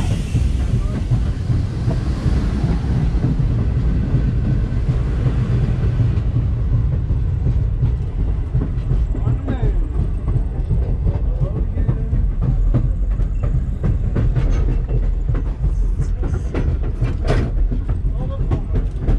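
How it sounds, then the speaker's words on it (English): Rolling clatter and deep rumble of rail cars heard from aboard a Norfolk and Western 611 steam excursion train, loud and continuous with rhythmic wheel clicks, and voices faint under the noise. "Empty train."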